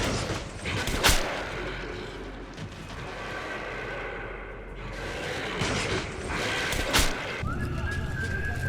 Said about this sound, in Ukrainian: Звук пострілів, як на мене, максимально сочний, хороший, чіткий, все як треба.